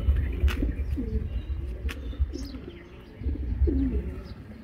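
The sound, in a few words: racing pigeon cooing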